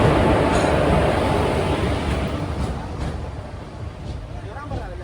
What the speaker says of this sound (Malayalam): 8:45 ട്രെയിൻ ഇതാ കടന്നു വരികയാണ്.